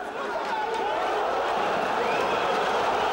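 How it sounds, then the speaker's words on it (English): Fight crowd at Gurkan Ozkan vs Pavlos Kaponis bout roaring and baying in a steady, loud wash of cheers and chatter throughout. "Crowd baying for Kaponis Pavlos's blood here."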